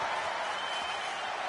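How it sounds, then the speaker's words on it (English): Video game wrestling crowd in WWE 2K22 roaring and chanting "This is awesome" after a piledriver through the announce table, a dense, steady wall of massed voices with no clear gaps, loud throughout. "crowd chants, "This is awesome.""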